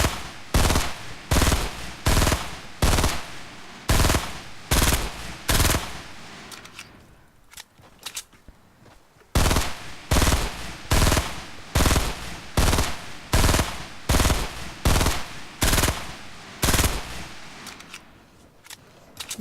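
Rapid gunfire in Fortnite shoots down a built wall, with loud, closely spaced bursts of shots repeating in a steady rhythm and a short break near the middle before the firing resumes.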